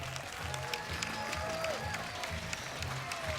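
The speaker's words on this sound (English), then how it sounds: "Round of applause out there, Florida." Crowd at a beach volleyball final in Florida applauding after a game, a steady patter of clapping with scattered cheers and a few voices in the background.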